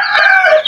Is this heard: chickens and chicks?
yes